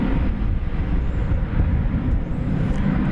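Airliner on final approach to land at DFW International Airport, a loud, steady broadband jet roar filling the whole span, close and continuous with no talk.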